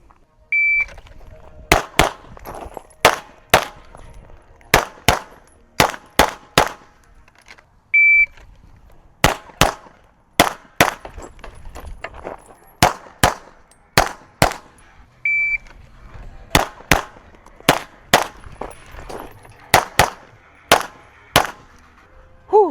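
Gunshots at shooting training targets ring out in quick bursts of two to four sharp cracks, repeated many times with short pauses, a few brief electronic beeps between strings.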